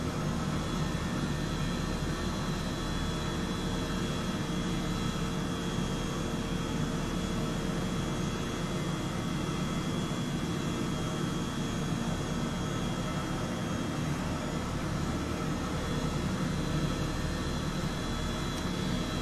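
An Airbus H135 helicopter in Microsoft Flight Simulator flies over Sydney, giving off a steady, unbroken turbine whine and rotor drone with a constant hum and no talk.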